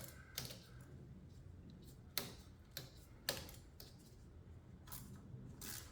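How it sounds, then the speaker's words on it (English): A ratchet with an 8mm socket snugs spark plugs on a 2014-2020 Ford Fusion 1.5L, giving short bursts of close, light clicking with a few sharper ticks, no talking. "Got my 8mm socket with the ratchet."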